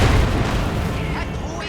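Booming artillery fire in a World War II strategy game, a heavy low rumble of blasts rolling continuously through the clip, loud at the start and slowly easing, with a commentator's voice over it.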